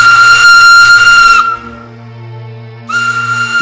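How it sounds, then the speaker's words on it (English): A steam engine shrieks a loud, shrill whistle up close, the piercing blast cutting off to a lower lingering tone before a second shrill blast bursts in again. "Instead, it shrieked its shrill whistle, whooshed out of the crossing, and disappeared into the darkness."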